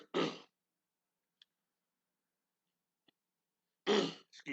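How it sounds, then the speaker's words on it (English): Two short, sharp coughs several seconds apart, close by, with near silence between them. "I had to cough"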